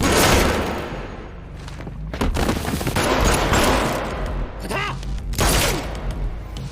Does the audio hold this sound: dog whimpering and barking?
no